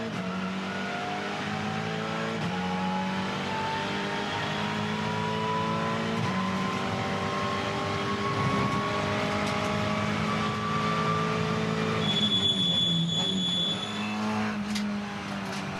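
A TCR touring race car engine revs hard on track, the pitch climbing steadily through the gears with a brief upshift near the end, loud and continuous with no voices.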